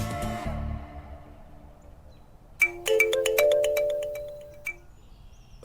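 A telephone rings with a bright electronic melodic tone, several quick repeated pulses lasting about two seconds, clear and close, after an earlier sustained chord fades out.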